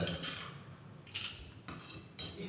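Crushed mustard seeds go into a bowl with a few quiet clinks and scrapes of a spoon against the bowl, soft and close, with no talking.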